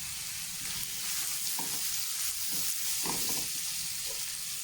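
Capsicum for fried rice sautéing in a hot pan, a steady close sizzle with a few soft scraping stirs, no voices.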